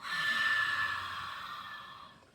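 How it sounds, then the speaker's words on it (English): A single slow exhale through the mouth during a guided breathing exercise, a soft airy breath that swells quickly and then fades gradually over about two seconds, close and alone. "Beautiful inhale in through your nose, filling up your belly. And then exhale."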